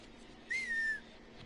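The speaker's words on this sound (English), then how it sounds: "I just like whistling, seeing if I can get him to come out." A single short whistled note, a steady tone with a slight drop at the end, made to lure an enemy out in the video game Mafia 3, clear and close over quiet game ambience.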